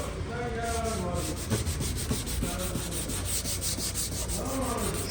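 Rhythmic rubbing and sanding strokes scrape steadily against an old car headlight lens, close and continuous, with a faint voice in the background.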